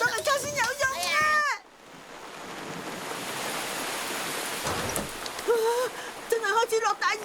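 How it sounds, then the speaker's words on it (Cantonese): Heavy rain suddenly pours down in a Doraemon cartoon scene with a weather box gadget, a dense steady hiss of downpour that stands alone between bursts of animated character voices at the start and end. "真係開始落大雨啦！"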